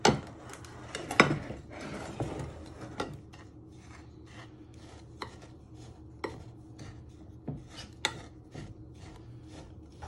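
Back of a spoon pressing a crushed-biscuit cheesecake base flat in a tin, with soft scraping, rubbing and light metallic taps that come intermittently and fairly close.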